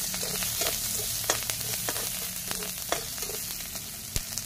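Dried red chillies, black cumin and onion sizzle in a wok of hot oil used for frying fish, a constant crackling hiss punctuated by scattered sharp pops and spatula taps.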